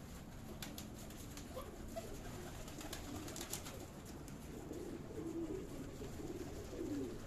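Pigeons coo softly throughout a breeding loft, with low repeated calls overlapping at close range against a faint, steady background.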